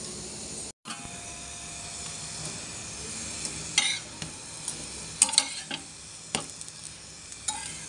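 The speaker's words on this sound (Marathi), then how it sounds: "फक्त त्याला शॅलो फ्राय करायचा तेल खायचं नाहीये त्याच्यामुळे तुपाचा वापर करते" Stuffed potato flatbread shallow-frying in ghee on a pan makes a continuous soft sizzle and crackle, with a few sharper pops and spatters standing out, and no voices.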